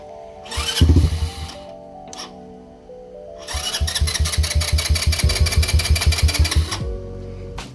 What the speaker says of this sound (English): Now let me see how it sounds with the KP Moto Club exhaust